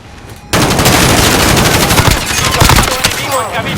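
Sustained automatic gunfire in a Call of Duty match erupts suddenly after a quiet start, loud dense bursts of shots continuing unbroken at close range.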